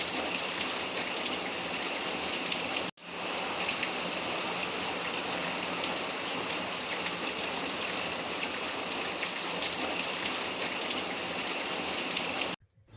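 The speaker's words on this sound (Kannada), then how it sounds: "ನೋಡಿ ಎಷ್ಟು ಜೋರಾಗಿ ಬರ್ತಾಯಿದೆ ಮಳೆ ಅಂತ" Heavy rain pours down in a dense, continuous roar near a family farm garden, loud and steady throughout with a brief break in the sound.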